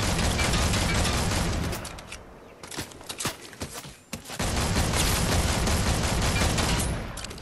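Thermal assault rifle firing in Fortnite Battle Royale, long loud sustained bursts of rapid automatic fire, a brief gap of scattered single shots in the middle, then continuous fire again, no talking.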